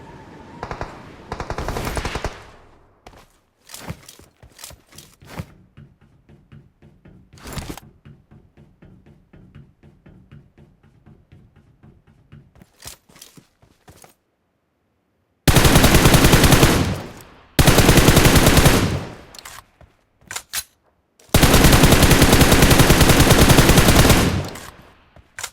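Bursts of automatic gunfire in a PUBG Mobile battle, with sparse single shots and rapid clusters early, then long dense, loud sustained volleys later, separated by short silences, with no talk.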